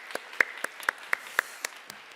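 A church audience claps together in a steady, even rhythm, about four claps per second, moderately loud with no talking.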